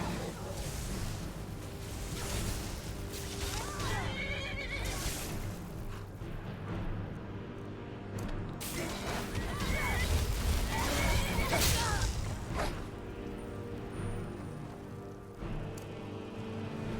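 Horse neighing in Skyrim, two loud shrill whinnies rising over a busy mix of game music, combat noise and hoofbeats, with a person briefly talking at times.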